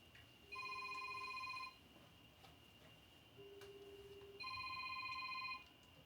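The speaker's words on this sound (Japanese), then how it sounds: "なかなかスマホに触らないので鳴らしてみることに。" A smartphone ringtone sounds in a cluttered apartment during a garbage-house cleanup. It plays two short bursts of bright electronic tones with a pause between them, faint and distant, and no one talks.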